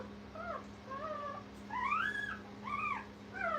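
Young puppies at a dog kennel whimpering in a litter, a series of thin, rising and falling whines close by over a steady low hum, with no talk.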